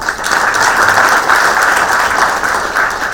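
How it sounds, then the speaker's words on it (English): Steady, dense applause from a large audience fills the hall after a memorial lecture panel session, loud and continuous throughout with no pauses. "A huge round of applause once again"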